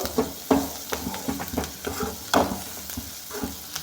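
Chopped onions with a little salt fry and sizzle in a pan, with irregular scraping stirs and clinks of a spoon at close range and no talking.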